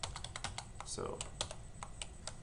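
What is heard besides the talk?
typing apostrophe and letters on a computer keyboard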